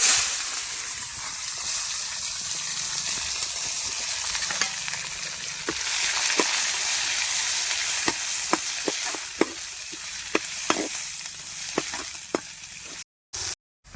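Onions fry in hot oil with fennel and curry leaves in a pan for egg curry, giving a steady close sizzle and hiss with scattered sharp crackles and pops, then abrupt cuts near the end.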